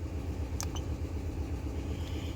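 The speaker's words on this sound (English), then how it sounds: "Truck's already idling, running smoother." A Ford Expedition truck engine idles steadily after a coil pack replacement, a low continuous rumble with a couple of brief clicks early on and no talking.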